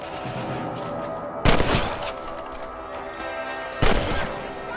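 Two loud, close gunshots ring out in Red Dead Redemption while shooting rabbits on a ranch, separated by a couple of seconds, each with a short decaying tail over quiet ambience.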